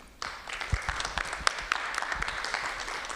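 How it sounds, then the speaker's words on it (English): Conference attendees in a meeting room break into applause, scattered claps starting abruptly and building into a steady patter of many hands, heard a little distant as if picked up from across the room. "I don't know if you can hear the room clapping."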